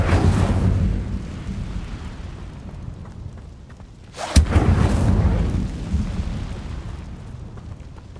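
Incendio fire spell cast in Hogwarts Legacy, with a sharp crack near the middle and a roaring, rumbling whoosh of flame. A steady low rumble fills the background before and after the burst.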